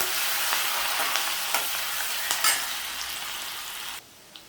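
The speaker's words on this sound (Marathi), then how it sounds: "कढीपत्ता लाल मिरची आणि लसूण आणि लसूण चांगला ब्राऊन होईपर्यंत आपल्याला परतून घ्यायचं आहे तेलामध्ये" Curry leaves, red chillies, garlic and asafoetida fry in oil with a bright, dense crackling sizzle and a few stirring scrapes, then the sound drops abruptly near the end.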